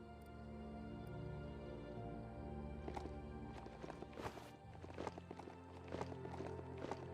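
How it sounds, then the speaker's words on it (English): Rhythmic hoof-like footsteps with a clanking, metallic edge over a low droning background, steady and moderately loud: a mechanical horse mount trotting in Biomutant. "It's a mechanical horse."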